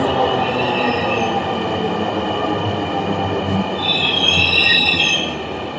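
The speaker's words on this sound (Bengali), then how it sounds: "দেখুন ট্রেন আসছে।" A Dhaka metro rail train pulls into an elevated station, its steady rumble and high wheel squeal growing slightly louder as it nears, with no talk over it.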